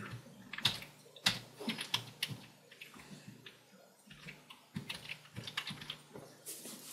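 Rapid typing on a computer keyboard while entering an equation in MathType, a dense run of close key clicks that comes in quick bursts with short gaps and has no speech over it.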